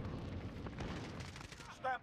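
Gunfire from an AN-94 rifle in Call of Duty: Modern Warfare, a rapid stream of muffled shots under a speaking voice, fairly faint overall, ending on a short louder burst.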